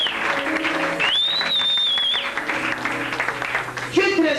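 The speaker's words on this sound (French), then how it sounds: "Acclamez très fort." Loud applause from a church congregation at a prosperity seminar, a dense, sustained wash of clapping that fills the whole stretch, with a thin whistle-like tone rising above it midway.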